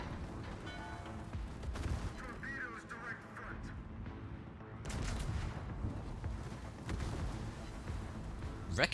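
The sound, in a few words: shells ricocheting off a warship, from the video game World of Warships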